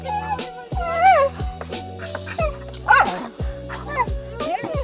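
Several dogs, four puppies among them, bark, yip and whimper in quick overlapping bursts close by, against a steady low engine hum from a motor scooter, with people talking over them.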